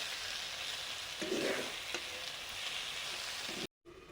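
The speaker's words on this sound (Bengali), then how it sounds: "কলমি শাক ভাজা হচ্ছে" Water spinach sizzles and crackles steadily in a hot pan, with a few soft stirring scrapes, then a brief dropout before the frying continues.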